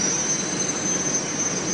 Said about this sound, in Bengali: আসার পরই সঙ্গে সঙ্গে দেখি মেট্রো এসে গেছে